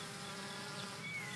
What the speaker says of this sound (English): Now let us see something about the bees.